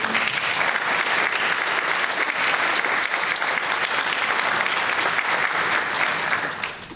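Audience applause at a stage program: a loud, dense, continuous clapping from a large crowd that holds steady for several seconds before tapering at the end.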